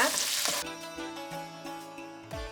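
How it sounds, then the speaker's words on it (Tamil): Onions sauté in a pan as a gentle sizzle and stirring noise close by, with tonal hums and a few knocks of a utensil over a short stretch. "ஆனியன் நல்லா டிரான்ஸ்லூசன்ட் வர வரைக்கும் வதக்குங்க"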